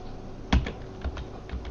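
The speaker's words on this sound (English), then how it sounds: "I can hear your frantic clicking." Quick mouse clicks during a Project Zomboid session, a sharp close click followed by a few fainter taps spread over under two seconds.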